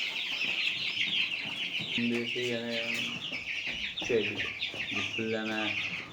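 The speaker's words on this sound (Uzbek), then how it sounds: "Hozir anaqa broiler donini yeyaptimi?" Broiler chickens on a small farm cluck repeatedly while eating starter feed, a busy flock chorus with bursts of loud, close clucks and rustling throughout.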